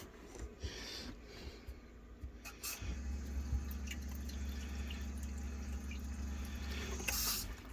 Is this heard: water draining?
yes